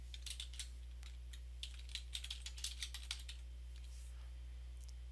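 Someone types on a computer keyboard while working in an Excel spreadsheet, a quick run of soft, close keystroke clicks over a steady low electrical hum, with no talking.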